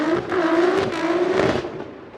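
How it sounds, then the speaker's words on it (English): Nissan Sylvia S15 drift car running a GTR engine at a Formula Drift qualifying event at Wall, a steady, droning engine note held at high revs from a distance, with no voices. "The Sylvia S15, the driver from Japan, Kazuya, now into that water zone"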